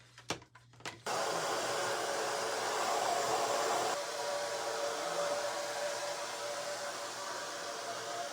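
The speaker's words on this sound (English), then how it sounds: "Let me dry it. We're gonna blow dry it." A hair dryer switches on after a few clicks and blows steadily with a loud, close whooshing roar that continues throughout.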